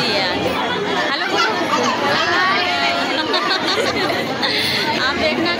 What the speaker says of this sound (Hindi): कितनी भीड़ है यहाँ पे